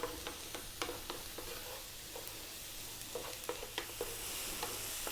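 Mushrooms cooking down in a pan over below-medium heat, giving a steady, fairly quiet sizzle dotted with small pops and crackles throughout.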